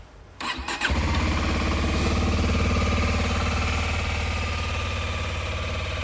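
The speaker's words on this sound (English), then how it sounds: "Let's give her a start up for you." A 2016 Kawasaki Ninja 250 SL motorcycle with 783 miles and a standard exhaust cranks briefly, catches and settles into a steady, close, even idle.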